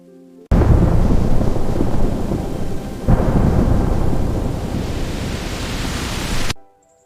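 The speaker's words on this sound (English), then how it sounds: "Listen to the rain." A heavy downpour with rumbling thunder bursts in suddenly as a loud, dense wash of rain that holds steady and then cuts off abruptly.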